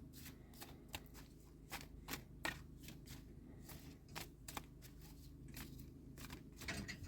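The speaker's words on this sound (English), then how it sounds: "Let's just give these a shuffle up and see where we are with you guys this" A deck of cards shuffled by hand, a quick series of crisp riffling bursts and taps repeating close to the microphone in an otherwise quiet room.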